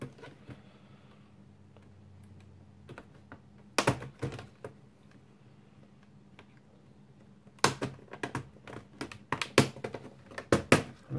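A plastic spudger pries along the top edge of the keyboard on an HP Pavilion 15-n290sa laptop, releasing the fixings with sharp, close clicks and snaps that come singly at first, then in quick clusters, over quiet room noise.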